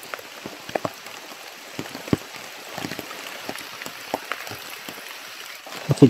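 Rain falls steadily outdoors during a rainy outing, a continuous hiss with scattered louder drops pattering on nearby surfaces, no voices.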